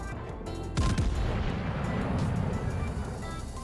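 Heavy naval gun salvo from a destroyer with sixteen guns in World of Warships, a loud booming blast that rolls into a sustained rumbling roar lasting several seconds with no talk.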